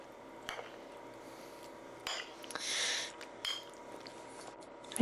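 Ham and cranberry sauce are mixed in a bowl, giving soft scattered clinks and wet scraping with a brief louder rustle, fairly quiet and close.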